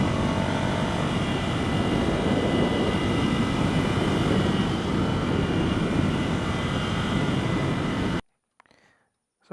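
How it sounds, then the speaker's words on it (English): Ducati Scrambler Icon motorcycle, 2015 model, ridden fast: a loud, steady engine and wind roar fills nearly the whole stretch, then cuts off abruptly to near silence at the end. "It's so easy to go fast on this bike."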